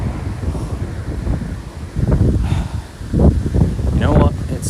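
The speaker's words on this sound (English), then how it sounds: "It's got so windy suddenly." Strong wind buffets an outdoor microphone in rough, surging gusts that swell and fade, loud and close, with some speech mixed in.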